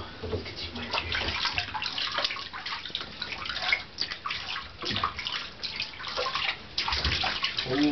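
Water runs steadily from a tap into a tub while Molly the dog is bathed, a continuous splashing wash with sloshing surges and brief drops in flow.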